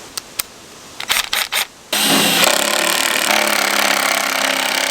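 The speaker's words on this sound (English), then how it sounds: "we are using the Gold Rat off-grid jaw crusher to process our piece of Dad's Reef" An off-grid jaw crusher works a sample of gold ore from a reef at an abandoned mine; a few sharp knocks and clatters are followed by a loud, continuous mechanical roar and grinding that stays close and steady.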